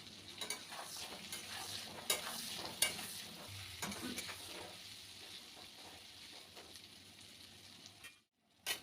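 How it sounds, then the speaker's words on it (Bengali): Pointed gourd (potol) frying in oil with salt and turmeric, a steady low sizzle with scattered sharp stirring clicks throughout, close and unvoiced, ending in a brief silence and one final clack. "পটলগুলোকে তেলের ওপর ভেজে নিচ্ছি"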